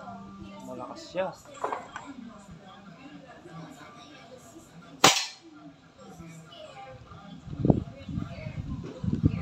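A TCA Mini PCP Tactical air rifle, fitted with a muzzle-brake-like baffle in the barrel, lets off a single sharp, loud snap midway, with people talking nearby before and after.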